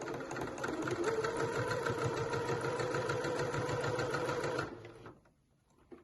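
A sewing machine back-stitching a drawstring bag runs in a fast, steady mechanical rhythm of needle strokes, close and clear, then stops abruptly, leaving near quiet with a small click at the end.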